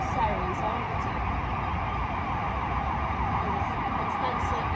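Emergency vehicle sirens drift through Chicago streets as a steady, far-off wail blended into a constant city roar, with no talking.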